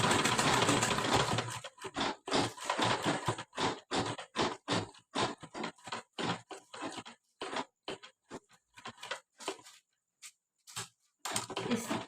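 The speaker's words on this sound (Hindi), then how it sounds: "इस तरह से यहाँ तक हमें सिलाई लगा लेनी है।" Sewing machine stitching a lehenga blouse to hold the cups in place, running in a long series of short, choppy bursts with brief pauses between them, close and clear with no talking.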